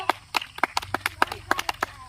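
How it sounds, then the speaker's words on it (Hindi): A group clapping hands at a group activity session, about a dozen uneven claps over two seconds that are close and sharp but not quite in unison. "थोड़े जोर से ताली दियो"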